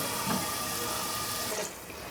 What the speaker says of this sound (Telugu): ఇప్పుడు నీళ్ళు పోసుకోవాలి.